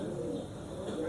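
A red Rajshahi Giribaz pigeon coos faintly under a constant background hiss, with low, indistinct murmurs in the room.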